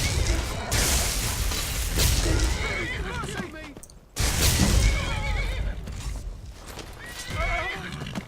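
In a fantasy role-playing video game, a horse whinnies loudly over heavy clip-clopping hooves and crashing game action, the sound dropping briefly mid-way before a second loud burst of neighing and trampling.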